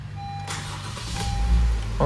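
A red 2017 Honda HR-V LX with about 46,000 km cranks and its engine catches, a low rumble swelling in the second half after a quiet start, heard close up inside the car.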